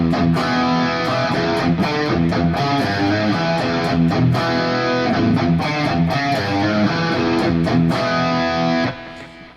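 Distorted electric guitar plays a verse riff, a blues shuffle pattern with steady chugging strums and chord stabs, loud and continuous before fading at the end.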